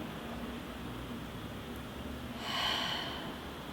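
A deep breath during a yin yoga meditation, steady airy hiss rising into one louder, fuller exhale near the end, close and alone.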